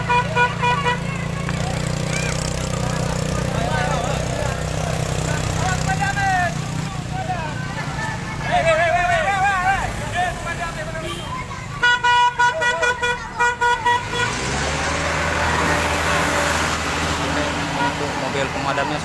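Fire trucks arrive at a building fire in Bakongan, South Aceh, honking horns repeatedly through dense street traffic and engine noise while people talk throughout.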